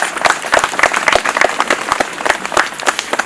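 A church congregation at a funeral in Lyon claps and cheers to acclaim the Lord, with steady rhythmic applause from a large nearby crowd and scattered voices mixed in.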